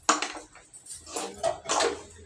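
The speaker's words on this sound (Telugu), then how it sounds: "ఇప్పుడైతే టమాటా రైస్ బాగా కలిపేస్తాను." Tomato rice is stirred in a metal pot, with a few soft scraping and clinking strokes of a spoon against the vessel, fairly quiet.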